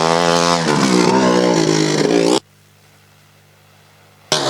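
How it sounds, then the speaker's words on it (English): A Formula Student race car screams past during an endurance event, its high-revving engine loud and close with a falling pitch as it passes, then cutting abruptly to near silence before another burst of engine noise at the end. "as that car just drove past us"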